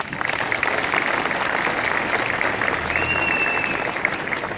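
Audience applause at the opening ceremony of the İncilipınar indoor swimming pool in Denizli, dense and sustained clapping from a sizeable crowd holding at an even level throughout.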